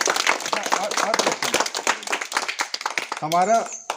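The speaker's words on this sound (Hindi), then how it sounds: "ताली बजाओ इनकी" A burst of clapping praises a child who answered quiz questions about planets and the sun. The claps sound close and quick under overlapping talk, and a voice rises near the end.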